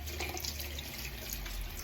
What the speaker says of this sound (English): I might just put a bit of cold water on